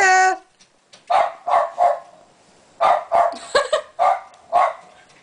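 Bichon dogs bark outdoors in winter, a high yelp followed by clusters of short, sharp barks in quick bursts of two or three, fairly close and loud.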